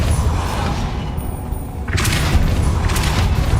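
Depulso spell cast in the game Hogwarts Legacy, heard as a dull booming whoosh followed by sharp bursts of impact noise over continuous game background sound.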